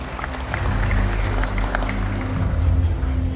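Crowd applause at a provincial investment commitment event, a dense wash of clapping that holds steady for a few seconds with a low hum beneath.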